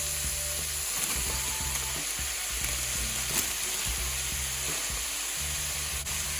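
Coleslaw mix and young pea pods sizzle in a hot pan for sesame gochujang vegetable noodles, giving a steady, close frying hiss with intermittent stirring scrapes and clatter.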